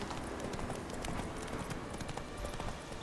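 Hooves of a horse galloping in fast mode in the video game Witcher 3, a steady rapid clip-clop rhythm running continuously under dense ambient game noise, fairly loud and close.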